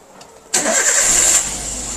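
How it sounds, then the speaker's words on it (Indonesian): A Toyota Avanza engine cranks and catches with a sudden burst, close and loud, then settles toward a steady idle as a warning chime rings over it. "mesin nyala, lampu indikator mil hidup"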